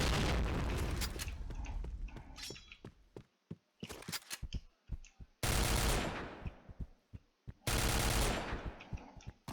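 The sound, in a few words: gunfire in video game Point Blank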